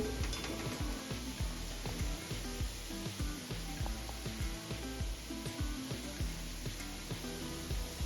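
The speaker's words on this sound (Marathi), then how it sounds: "हे बघा सहज मॅश होत आहे बटाटे" Fried potatoes are mashed in a pan for sabudana khichdi. Steady, rhythmic soft thuds and squishes repeat close up over a faint sizzling background, with no talking.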